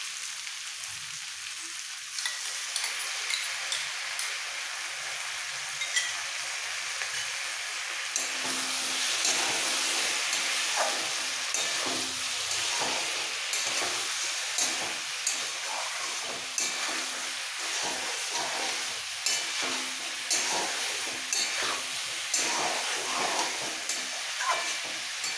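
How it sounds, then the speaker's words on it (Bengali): Jackfruit, potatoes and whisked curd sauté in a pan. A quiet scrape opens the clip, then a loud hissing sizzle rises and holds, broken by repeated scraping stirs close by. "এঁচোড় আলু একসাথে কষাতে কষাতে দিয়ে দেবো 2 চামচ ফেটানো দই"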